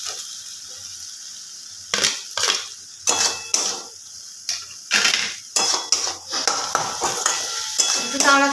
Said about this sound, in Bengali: তো আর একবার কষিয়ে দিয়ে দেবো আলুটা।